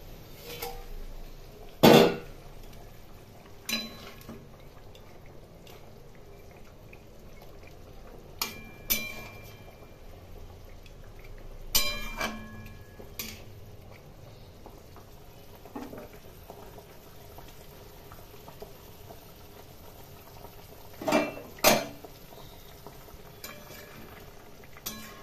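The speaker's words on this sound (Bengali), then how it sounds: "ঝোল ফুটে গেছে, এর মধ্যে মাছ ভাজাগুলো দিয়ে দিলাম।" Fish curry broth simmers with fried khoira fish in a pan, a low continuous bubbling hiss broken by a few sharp clinks and stirring knocks of a spoon against the vessel.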